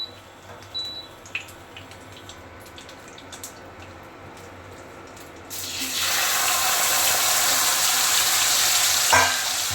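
A mint and yogurt mixture for a katla fish dish is poured into hot oil. A few quiet clinks come first, then a sudden loud, sustained hissing sizzle that fills the rest of the clip.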